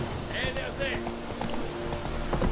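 Horse hooves clip-clop at a steady rhythm in The Witcher 3 as the mount travels near a Nilfgaardian camp, with a brief whinny early on and a voice talking over it.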